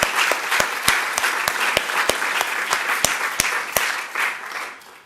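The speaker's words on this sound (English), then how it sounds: "let's have another just round of applause for both of them" Audience applause for prize finalists at an award event, a moderate crowd clapping steadily with sharp individual claps standing out near the front, tapering off after about five seconds.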